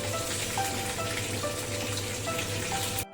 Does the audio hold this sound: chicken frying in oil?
yes